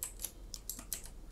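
Keys click softly on a computer keyboard while a URL is typed into code, a quick run of about half a dozen light, close taps under a faint background hiss.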